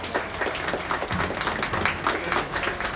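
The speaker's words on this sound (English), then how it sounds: "One more round of applause for a job well done for these kiddos." A crowd at a junior county livestock show applauds the kids, steady mid-distance clapping from many hands filling the arena throughout.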